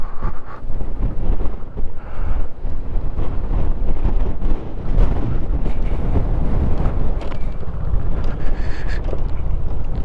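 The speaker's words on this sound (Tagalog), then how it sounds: "Sobrang lakas ng hangin, grabe ah." Strong wind roaring and buffeting the microphone continuously while riding a motorcycle on a concrete road, loud and close, with a low rumbling rush throughout.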